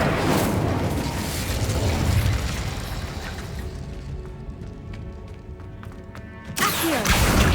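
Incendio fire spell cast in Hogwarts Legacy: a loud, roaring burst of flame that slowly fades into crackling embers, followed by another sudden whooshing blast near the end.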